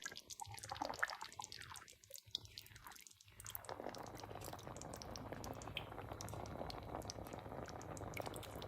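Kuttanad-style duck curry with coconut milk simmering in a pot, a faint, continuous bubbling and soft popping that carries steadily throughout.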